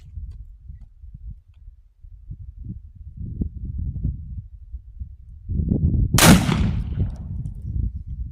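A muzzleloading black powder double barrel shotgun fires a slug once, a sharp loud boom with a brief decaying tail that breaks through low outdoor rumble and handling noise.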